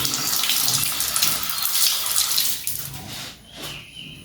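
Tap water gushes steadily close by while feet are washed for ablution. A louder continuous splash fades and breaks up into softer trickles at the end.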